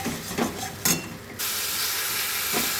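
Spice masala fries in a pan with tomato paste for a potato and pointed gourd curry with prawns. A few brief bursts give way to a loud, steady, steamy hiss.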